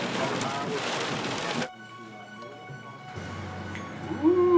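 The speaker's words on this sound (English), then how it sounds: "This is hail from that tornado." Hail falling during a tornado hisses as a dense, loud roar that cuts off abruptly, then quieter background with a hum and faint speech-like sounds follows.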